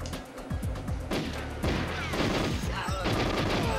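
Rapid bursts of gunfire from the GoldenEye video game, several sharp shots in quick succession with a dense crackling tail, loud and close, over a steady game background.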